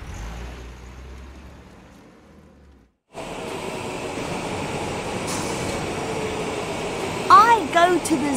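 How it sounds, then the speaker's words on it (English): A train rolls along in a children's story, its steady rumble and rattle starting after a quiet spell and continuing under a narrating voice, with a brief high squeal near the end. "I go to the zoo by train."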